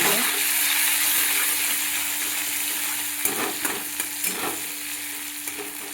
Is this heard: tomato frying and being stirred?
yes